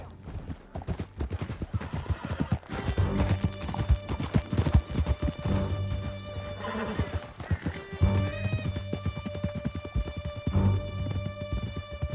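Horses galloping in Red Dead Redemption 2: a fast, close, continuous clatter of hoofbeats with snorting, over a sustained musical score, with occasional shots in the background.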